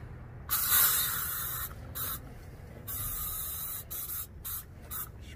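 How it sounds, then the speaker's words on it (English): Several hissing bursts from an aerosol disinfectant sprayer inside a car, in short on-off spurts of varying length, fairly close by, with no talking. "Spray it all in now."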